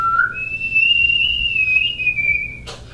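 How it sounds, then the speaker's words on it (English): A person whistles a sustained, slightly wavering tune for about two and a half seconds, fairly close and clear against a low background hum, ending with a short breathy noise. "I can whistle."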